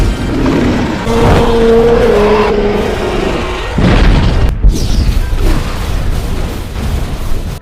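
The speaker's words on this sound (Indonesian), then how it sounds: "akhirnya berhasil membuat gas pada tubuh naga meledak" Dragon gas ignites in a loud explosion from the animated film How to Train Your Dragon, with a roaring, rumbling rush that swells and then breaks into a second heavy burst.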